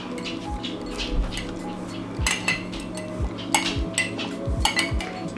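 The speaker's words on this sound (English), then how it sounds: "you can see, I go just with a knife around the edge" A knife scrapes and clinks around the edge of an old candle's wax, producing repeated short scratchy strokes and light metallic ticks at close range, with no talking.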